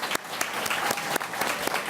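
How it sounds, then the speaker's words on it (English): Forum audience clapping, a steady, fairly close patter of many hands throughout the short stretch, with no talking over it. "We'll give them a round of applause"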